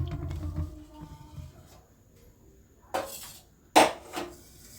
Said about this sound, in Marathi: आता स्मॅशर नाही ना मी स्मॅश करून घेते